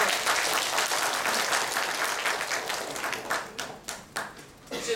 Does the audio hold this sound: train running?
no